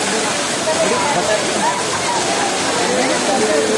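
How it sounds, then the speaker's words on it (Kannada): A waterfall at Kallathigiri, near the Veerabhadra Swamy temple, pours from above in December with a loud, steady, close rushing roar that never lets up, and faint voices sit partly buried beneath it. "ಮೇಲ್ಗಡೆಯಿಂದ ಬರೋ ಜಲಪಾತಗಳು ಕಲ್ಲದಗಿರಿದು"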